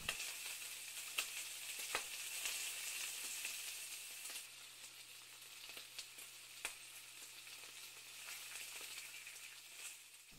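Pizza samosa filling with pizza sauce cooking on low heat, a quiet steady sizzle with a few soft spoon clicks against the pan.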